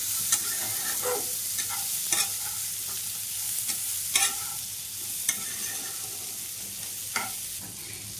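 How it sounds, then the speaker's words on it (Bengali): A spoon stirs fig chutney with dates and mango leather in a pan, with irregular scraping strokes over a soft, continuous sizzle, close and without talk. "এটাকে আবারও হালকা হাতে নাড়াচাড়া করে নিতে হবে।"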